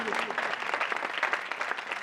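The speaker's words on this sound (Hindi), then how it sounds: "आइए जोरदार तालियां उस जिंदगी देने वाले खुदा के लिए और बादशाह के लिए।" A congregation claps enthusiastically for God and the King, a steady, fairly soft wash of applause lasting about two seconds.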